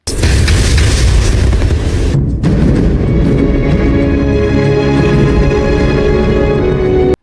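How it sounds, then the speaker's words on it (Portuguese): An explosion from explosive gel in the video game Batman Arkham Asylum sets off a loud, sustained booming roar that briefly dips, then rumbles on heavily before cutting off abruptly. "Quem não se lembra da clássica animação do Batman virando a cara e a explosão vindo atrás dele?"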